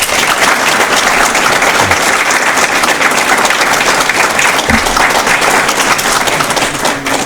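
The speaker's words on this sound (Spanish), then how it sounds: "Y para él pido un aplauso." Sustained, loud applause from an audience at a forum, dense clapping filling the room throughout with a few heavier thumps mixed in.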